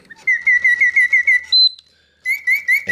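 Bellows-driven whistle of a singing bird cage music box: a bright mechanical birdsong of rapid, evenly pulsed chirps, then a short higher note and a pause before the trilling resumes, loud and close.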